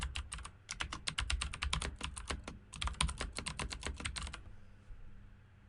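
Quick, crisp keystrokes on a computer keyboard while entering an Excel query, a dense run of clicks in two bursts with a short pause between, then quiet room tone.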